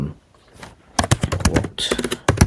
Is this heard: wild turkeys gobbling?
no